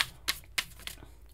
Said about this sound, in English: I like to do my shuffling on camera